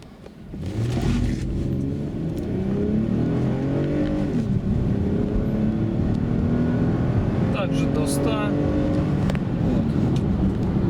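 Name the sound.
Toyota Highlander 3.5 V6 accelerating on petrol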